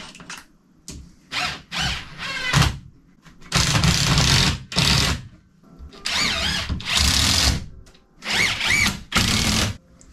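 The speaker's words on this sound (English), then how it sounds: "The joys of drywall screwing." A power drill drives drywall screws during a farmhouse bathroom and bedroom renovation, in repeated loud whirring bursts of varying length separated by short pauses, close by with no speech.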